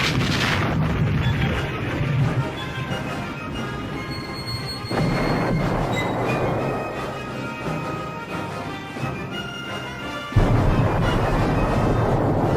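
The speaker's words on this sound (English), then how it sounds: "a tremendous barrage strikes Hitler's fortifications at Normandy, softening it up for the men who will soon hit the beaches" A heavy artillery barrage strikes the fortifications at Normandy on D-Day in 1944, a continuous loud roar of overlapping booms and rumbling blasts with fresh impacts punching through, dense and unrelenting.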